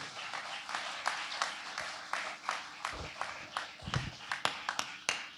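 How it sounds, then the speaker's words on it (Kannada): Audience at a devotional Dasavani song performance claps along in uneven bursts, a crowd of hands patting quickly and irregularly, moderately loud with soft thumps underneath. "ಚಪ್ಪಾಳೆ ಹೊಡೆಯೋಗಿದ್ರೆ ಜೋರಾಗಿ ಹೊಡೀರಿ."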